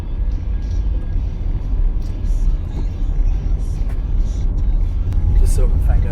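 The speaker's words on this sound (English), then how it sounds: "So I am currently in the car on my way to meet my granda" Inside a moving car on the road, a steady loud low rumble of engine and tires fills the cabin throughout, with faint scattered clicks and rattles and no one talking.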